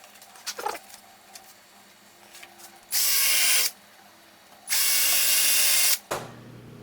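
A power drill bores holes for 3D LED letters in two loud steady bursts of about a second each, preceded by light handling clatter and followed by a brief knock.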